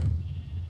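A Minecraft sheep gives a short, low bleat as it is killed, a single brief cry heard on its own.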